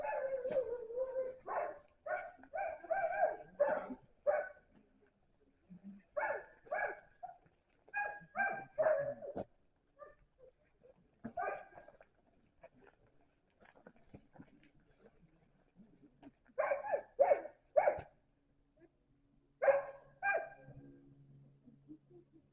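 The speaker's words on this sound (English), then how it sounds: "we're at the Denali National Park, and this is the working dog kennels." Working sled dogs at the Denali National Park kennels bark and yip in repeated clusters, several dogs together with pauses between bursts, moderately near in an otherwise quiet outdoor setting.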